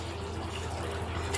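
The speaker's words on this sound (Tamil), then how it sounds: "பருப்பு வச்சு தண்ணி ஊற்றிக்கலாம்." Water pours steadily into a pot of dal (lentils) for cooking, a continuous close splashing fill with no talk over it.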